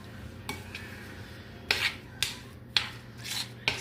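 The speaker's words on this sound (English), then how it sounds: "Stir them well so that the jaggery melts and they come to a jam consistency." A spoon scrapes and rubs against a pan while amla jam with jaggery, Punjabi shakar, salt and ghee is stirred, giving several distinct scraping strokes at an irregular pace over a low background hum, with no talking.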